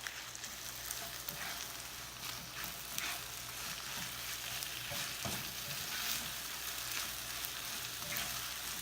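Vegetable hash, made partly from grated leftovers, sizzles steadily in a pan for breakfast, a soft continuous crackle with occasional stirring scrapes, fairly quiet and close.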